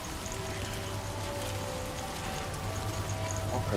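Steady timefall rain in Death Stranding 2, a soft continuous hiss of drops on surfaces with a faint low hum underneath, quiet and unbroken, with no voices.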